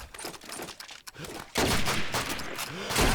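Rapid gunfire in a competitive LAN tournament match between Warlords and iNFINITE: scattered shots and quiet gaps at first, then a sudden loud, sustained volley of close bursts that keeps going to the end.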